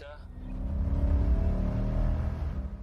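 A Lexus car accelerating, its engine building into a low, steady rumbling drone heard from inside the cabin, swelling and holding for a few seconds.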